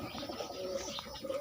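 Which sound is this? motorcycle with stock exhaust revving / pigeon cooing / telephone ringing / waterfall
pigeon cooing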